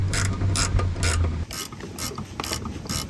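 A ratchet wrench with a 17 socket tightens a bolt on a Honda Street, giving a close, loud series of sharp metallic clicks in quick bursts of ratcheting strokes with short pauses between, and no voices.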